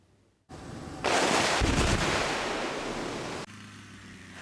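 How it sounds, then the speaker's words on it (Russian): Blasting of an ice jam on a river in winter: a sudden loud burst of broadband roar that holds strong for a couple of seconds, then drops abruptly to a quieter rushing background. "спасатели проводят взрывные работы на реках региона"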